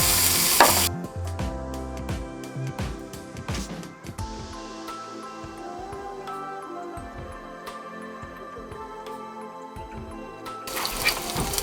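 Bacon strips frying in a titanium cooking pan and releasing their fat, a close, continuous crackling sizzle with dense popping spatters throughout, no voices.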